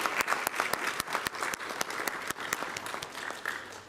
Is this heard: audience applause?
yes